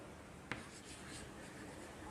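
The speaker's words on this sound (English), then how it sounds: "Here I will write the example on the board." Writing on a classroom board, a soft continuous scratching and tapping of chalk or marker strokes, quiet and close, following one sharp tap at the start, with no one speaking.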